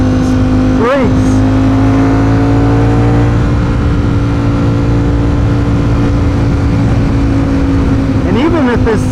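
Ducati Streetfighter V4 motorcycle engine running loud and close, with a steady high drone and sharp rising revs near the start and end, heard while riding.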